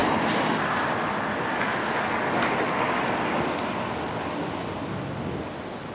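Train at Kilwinning station, a steady broadband rumble with faint high whine, continuous and fairly loud, with busy street traffic noise blended in, easing slightly near the end.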